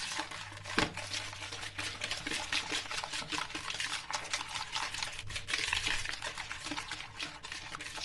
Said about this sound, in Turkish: Çırpma telimizle çırpalım biraz.